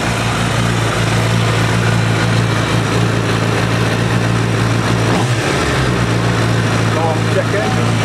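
A rebuilt Suzuki Hayabusa motorcycle running stripped of its bodywork after an engine replacement, a loud, steady engine drone close by with a brief rise in revs partway through.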